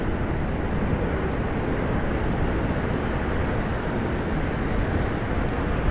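A Boeing 737-900ER jet taking off from runway 28 left at San Francisco airport, a steady broad roar of engine noise with no voices.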